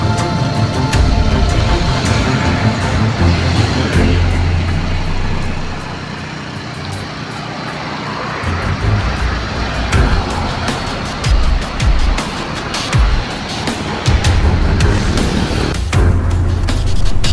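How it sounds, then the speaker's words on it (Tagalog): A portable generator runs at a roadside stop in Ilocos Norte, charging a solar-equipped electric vehicle, producing a loud, steady low engine drone with rough, fluctuating broadband noise throughout and no speech. "Yun, umaandar na yung generator,"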